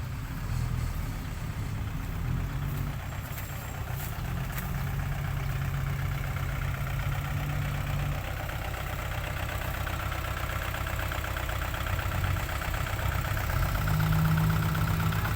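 Kubota L4708 SP tractor engine idling steadily and loudly outdoors during a stuck-vehicle recovery, a continuous low rumble with no talk.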